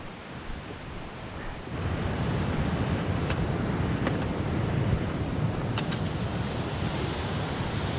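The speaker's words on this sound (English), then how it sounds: "Wow, bunch of waterfalls." Several waterfalls on a hiking trail to Thousand Island Lake give a broad, steady rushing roar that swells up after the first couple of seconds and then holds loud and constant, with occasional faint clicks on top.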